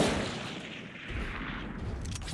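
Gunfire from the tactical shooter Valorant, a dense burst of shots with a lingering rumbling tail, fairly quiet and steady across a couple of seconds, no talking over it.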